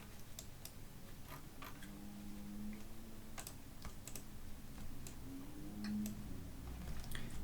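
Computer keyboard keys tapped during 3D modelling work, sparse light clicks scattered irregularly at close range over a steady background hiss, with a faint tonal hum drifting in and out.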